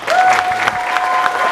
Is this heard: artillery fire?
no